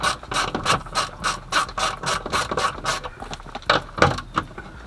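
A ratchet wrench clicks in quick, regular bursts as bolts are driven to fasten a third brake light bracket inside a Cutlass rear deck, loud and close with short pauses between strokes.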